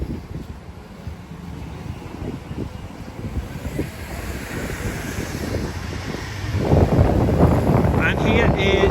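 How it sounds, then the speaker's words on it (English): Gusty seaside wind buffeting the microphone on a beach walk at Ingoldmells near Skegness, a steady rumbling roar that swells louder in the final seconds as a stronger gust hits. "here is another gust of wind"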